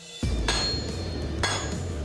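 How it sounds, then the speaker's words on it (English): An 8-pound hammer forging steel from a car leaf spring into a blade, with two heavy ringing blows spaced about a second apart over a steady background roar, close and loud. "an 8-pound hammer."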